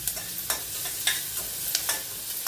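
Onions sautéing in hot coconut oil for okra pachadi, a close, steady sizzle broken by several sharp scraping stirs of a spoon against the pan.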